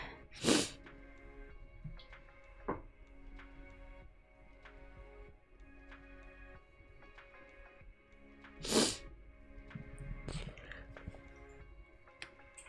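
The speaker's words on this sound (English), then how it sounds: "I need to sneeze." Two loud sneezes from a person painting, several seconds apart, in an otherwise quiet room with soft clicks and small movement sounds between them.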